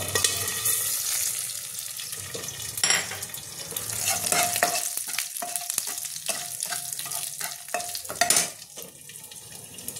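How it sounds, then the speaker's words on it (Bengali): Curry leaves and black mustard seeds crackle in hot oil with a steady, close sizzle, broken by sharp pops and a few louder bursts partway through. "দিয়ে দেবো কালো সর্ষে ফোড়নটা দিয়ে দেবো"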